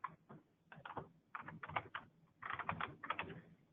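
Typing a username and password on a computer keyboard, with quick bursts of key clicks in uneven clusters separated by short pauses, close and moderately quiet.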